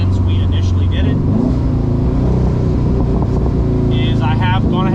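A Porsche 914 engine running on Haltech engine management makes a steady, smooth low rumble up close, with someone talking over it throughout.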